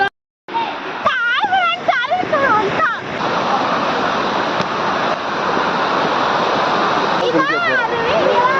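A waterfall in a natural setting pours with a steady, loud roar of rushing water, while children's voices chatter and squeal over it.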